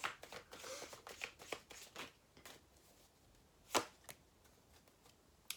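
Tarot-style love oracle cards being shuffled and handled, a quick flurry of close, crisp riffles and slaps, then a pause and one sharper snap.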